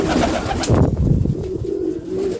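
A brooding pigeon sitting over its chick coos loudly and close, in a few low rolling calls with a soft flutter partway through.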